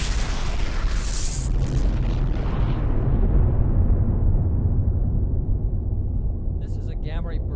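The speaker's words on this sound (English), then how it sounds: "Gamma ray burst is a rare type of supernova explosion in which a black hole forms" A deep, rumbling supernova explosion boom that swells and slowly fades into a long low roar, with a voice beginning to speak near the end.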